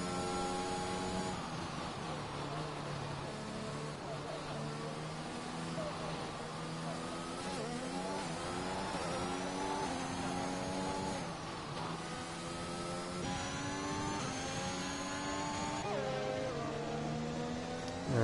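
F1 cars from a racing video game lap the Netherlands circuit, a steady whining engine drone with rising and falling pitch sweeps as they run, continuous and moderately distant, with a commentator talking over it.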